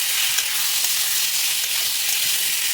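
Pointed gourd and potatoes frying hard with spices in a pan, a loud dense sizzle that holds steady throughout, with faint stirring knocks underneath.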